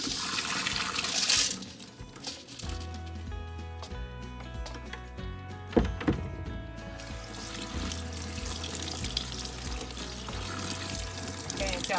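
Water poured over tumbled driveway rocks during the third stage of rock tumbling, a gushing splash that settles into a steady trickle and drip close by, with a low hum beneath and a knock partway through.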